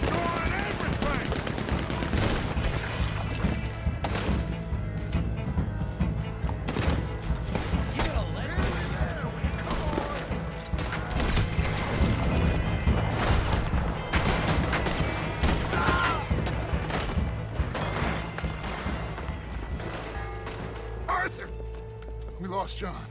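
A Gatling gun fires in rapid sustained bursts during a Saint Denis shootout in the video game Red Dead Redemption 2, with dense overlapping gunfire and crashes running nearly continuously and loud throughout.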